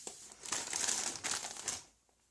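A bag of Jeff Foxworthy Grit jalapeño cheddar chips crinkles close up in a soft, continuous rustle that fades out near the end, with no talking.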